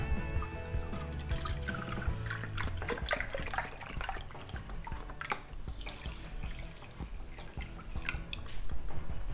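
A cup of rice milk poured into a bowl of chia seeds, a steady close-up liquid pour with splashing and dribbling that runs throughout without talk.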